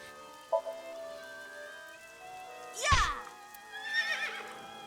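A merry-go-round horse in AI: The Somnium Files lets out a loud, descending whinny in the middle, followed by a quieter second neigh, over faint sustained tones.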